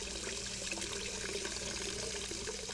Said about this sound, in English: Go to the sink, turn the water on, put it in the sink.